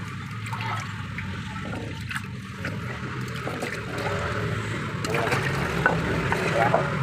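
Water is poured into a pot of mung bean stew, giving a steady running, splashing flow close by that grows a little louder toward the end.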